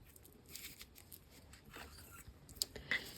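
Scissors trimming paper for an Easter card: quiet, close snipping and rustling with a couple of sharper cuts near the end.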